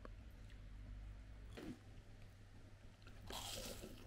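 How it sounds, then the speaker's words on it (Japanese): Someone bites into a crispy fried croquette bought from a shop on Izu Oshima. Two soft, close crunches stand out from a faint steady background hum. "めちゃくちゃ衣サクサクでうまい、シンプルなコロッケ"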